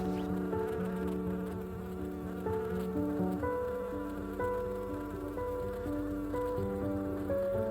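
Bees buzz steadily around a nest high in a forest canopy in the Nepal wilds, a dense, continuous swarm drone with overlapping wingbeat tones heard up close and alone.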